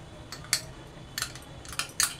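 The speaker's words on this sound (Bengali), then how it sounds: "সুন্দর করে এই আমের পাল্পটা আমি এখানে মিশিয়ে দিচ্ছি।" A spoon stirs mango pulp into cooked semolina in a pan, making a few faint, scattered scrapes and light metallic clicks against the cookware, with no voices.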